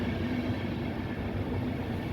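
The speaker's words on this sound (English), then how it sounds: "Our train is being pulled by a Class 101 locomotive." Intercity train hauled by a Class 101 electric locomotive, heard from on board as a steady, continuous low rumble and rolling hum with no voices.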